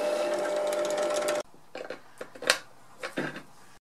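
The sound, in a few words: drilling a hole with a step drill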